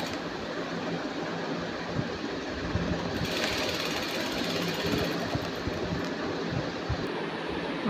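A sewing machine stitches the back neck of a blouse, running as a steady dense mechanical whir throughout with a slightly brighter stretch in the middle, close and continuous, no talk.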